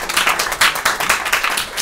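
An audience applauding during a discussion on Israel, settlements and obstacles to peace: a short burst of dense, close clapping with no voices over it.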